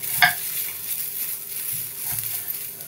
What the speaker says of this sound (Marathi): सगळं व्यवस्थित खमंग भाजून घ्यायचं, खोबरं लालसर होईपर्यंत.